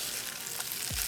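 Onion and potato frying in a pan for Jaffna-style egg curry, a close, steady sizzle with a faint stir toward the end.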